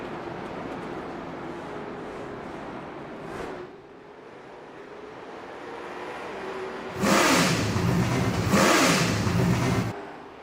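Late model race cars at Southern National Raceway Park revving at a restart, a steady engine drone that dips briefly and then swells into loud, close roaring passes near the end.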